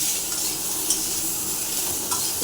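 Fried potato and eggplant, with ginger added, are stirred in a hot pan, giving a steady close sizzle with scraping stir noises and a couple of small clinks, and no voices.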